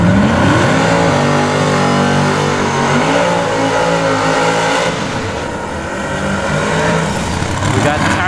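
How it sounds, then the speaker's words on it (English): A turbocharged third-generation Chevrolet Camaro at a drag strip revs and accelerates loudly and steadily, its engine note climbing, while a commentator talks over it. "we have a turbo 3rd gen Camaro."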